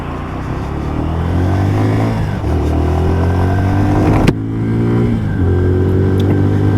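A Lexmoto Assault motorcycle being ridden on the road, its engine droning steadily and close with gentle rises and falls in pitch, one brief knock partway through, and no voices.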